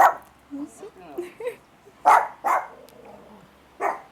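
Several dogs, eight rescued strays kept at a home beside a candy shop, bark in short separate bursts, fairly near, with voices talking between the barks.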